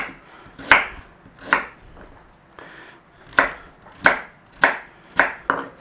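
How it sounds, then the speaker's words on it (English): Knife chopping carrot into small cubes on a board, crisp sharp cuts in an uneven series of about eight close, loud strikes with short pauses between. "So we want some little cubes of carrot."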